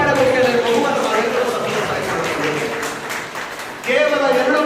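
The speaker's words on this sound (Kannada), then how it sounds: "ಒಂದು ಗಟ್ಟಿಯಾದ ಚಪ್ಪಾಳೆ ಬಗ್ಗೆ ಬಹುಮಾನ" Audience at a Kannada literary council event in Vijayanagara, Hampi, applauding loudly and steadily for several seconds, dipping briefly before surging again near the end, with talk underneath.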